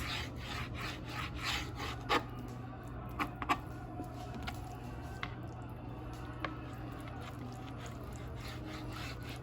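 A knife slicing salmon fillets into chunks for kabobs, giving soft, intermittent rubbing and scraping strokes against a cutting board with faint sharp ticks, close and quiet over a steady low hum.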